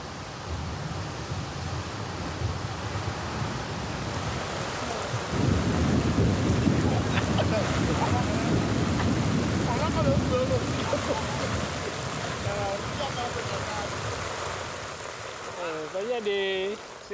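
A heavy tropical thunderstorm on the Bissagos Islands in West Africa during the rainy season: steady loud rain with deep rolling thunder that swells midway, with faint voices near the end.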